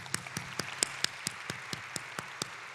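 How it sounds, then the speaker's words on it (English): Sparse, evenly spaced claps, about eleven sharp hits in under three seconds, faint and fairly distant, as an audience applauds itself at a talk. "Could you please, instead of applauding me, give yourself an applause right now?"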